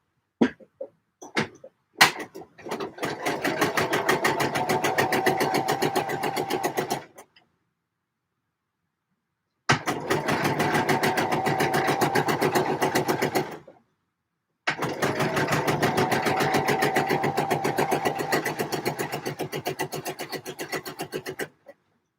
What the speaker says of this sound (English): I'm going to machine sew the hem on this